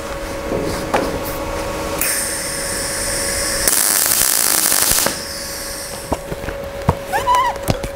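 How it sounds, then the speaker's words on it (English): Tack welding on sheet metal overlay for a rusty vehicle's rear cabin: a steady electric buzz with bursts of crackling arc noise that flare up and cut off between short spot welds, no talking. "I'm going to keep on welding little spots all along, kind of stitching, so the metal doesn't deform"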